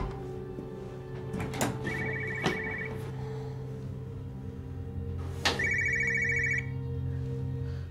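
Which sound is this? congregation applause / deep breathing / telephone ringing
telephone ringing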